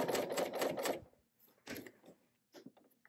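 A serger sews fabric near a zipper, first running in a fast rattling burst of stitches, then slowing to short, quieter intermittent stitching pulses with brief pauses, close up in a quiet room.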